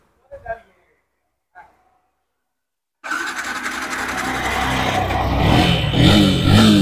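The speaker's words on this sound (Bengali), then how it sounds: "ইঞ্জিনের আওয়াজ তো দারুণ আওয়াজ, একদম হেভি আওয়াজ আছে" A brief murmur of voices, then silence before a motorcycle engine starts at once on electric start and keeps running loudly and steadily, revving slightly toward the end.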